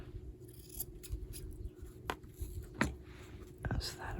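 Scissors snipping fabric lining for a crazy-quilt boho bag, a few short crisp cuts spread through a quiet room, close and moderate, with faint low background hum.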